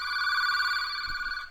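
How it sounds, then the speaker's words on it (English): A telephone on a Cisco router's FXS port rings with a steady, continuous electronic ring tone, clear and close, with no voices present. "You can hear that ringing."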